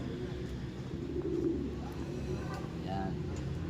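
A Janssen Arendonk racing pigeon, a Belgian-line hen, gives soft low coos within steady background noise, with talk nearby.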